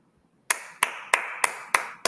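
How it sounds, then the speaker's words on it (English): Slow claps at a fashion show, six sharp evenly spaced claps close to the microphone after a moment of silence, with no talking over them. "Always got to give the applause to the artist."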